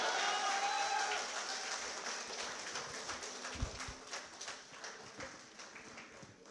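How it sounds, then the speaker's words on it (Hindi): An audience at an alumni meet applauds loudly at first, then the dense clapping gradually thins and softens over several seconds, heard from within a large hall. "ताली बजती रहनी चाहिए जोरदार।"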